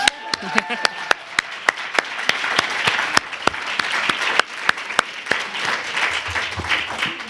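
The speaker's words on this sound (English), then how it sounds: "Yes, please clap." An audience applauds at a lecture with a dense patter of clapping, some sharp individual claps standing out, continuing steadily throughout.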